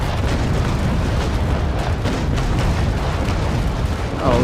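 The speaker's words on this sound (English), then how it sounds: "And now we shall be taking a point-blank broadside." A point-blank cannon broadside from a sailing warship in the naval combat game Naval Action: a loud, sustained booming roar of many guns firing together that rumbles on for several seconds at close range.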